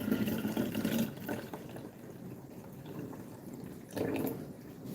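Water trickling and dripping into a filter pot indoors, a steady wet patter with louder pouring bursts at the start and again near the end, no talking.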